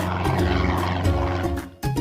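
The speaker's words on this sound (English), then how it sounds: "Eddy found an airplane." Cartoon airplane sound effect for a children's alphabet show, a steady droning engine hum with propeller-like tonal bands, loud and close, dipping briefly near the end before resuming.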